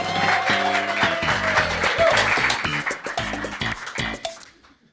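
A comedy club audience in San Rafael applauds to welcome the next comedian, a steady wash of clapping with cheers that fades away at the end.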